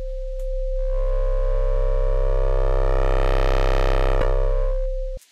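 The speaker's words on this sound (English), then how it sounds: "What about two sine waves playing together?" Two sine tones play together as a steady electronic hum, joined by a growing stack of buzzy overtones as the signal is distorted, then cut off abruptly after about five seconds.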